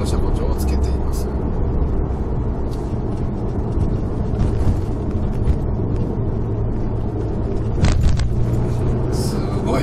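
A Volkswagen Golf R 7.5 Performance on a custom coilover setup drives along a road, with low engine and road rumble throughout and a brief louder bump near the end, while people talk over it.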